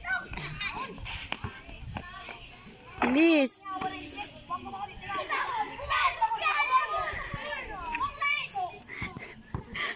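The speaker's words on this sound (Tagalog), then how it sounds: "Ganyan talaga pag mga bata, maingay." Noisy children playing a ball game, with shouts, high-pitched calls and chatter overlapping throughout, and one sharp shriek standing out near the middle.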